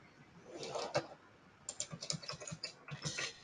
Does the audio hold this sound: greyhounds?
no